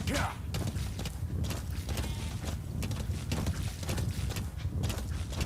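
A horse gallops in Metal Gear Solid 5, its hooves clip-clopping in a quick rhythmic beat alongside creaking tack and a busy game soundscape.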